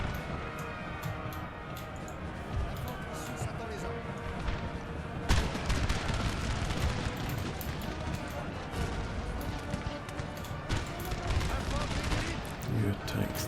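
Musket volleys and scattered gunfire in a Napoleon: Total War battle during the Egyptian campaign, a steady dense crackle of distant shots with sharper louder reports, running under talk throughout.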